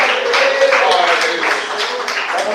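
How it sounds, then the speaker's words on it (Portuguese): Congregation clapping hands together during a church worship service, a steady dense patter filling the space, with a voice singing or speaking over it. "Levante mais palmas."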